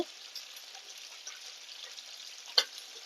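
Oil heats in a hot pan, giving a faint, even hiss with tiny crackles and one brief sharp tap late on.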